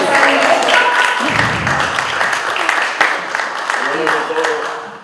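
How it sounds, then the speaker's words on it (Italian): An audience at an Italian literary event applauds warmly in a sustained, fairly close burst of clapping, with a few voices murmuring through it and the applause tapering off at the end. "gli facciamo anche un applauso"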